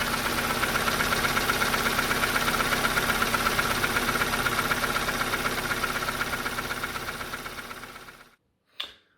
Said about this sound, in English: as you can clearly hear in the video there, the engine is still rattling quite badly